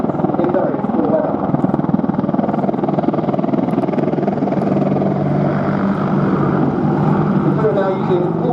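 An AgustaWestland Apache helicopter flies at the Duxford air show, its loud rotor and turbine roar sustained throughout with a steady low throb.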